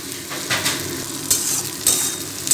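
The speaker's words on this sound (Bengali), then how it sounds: "এবার আমি এতে দিয়ে দেব টমেটো কুচি। এবার আমি একটু গ্যাসটা হাই ফ্লেমে রাখবো" Chopped tomatoes frying over a high flame for a Bengali mutton curry, a loud sizzle broken by repeated stirring scrapes and brief utensil clinks.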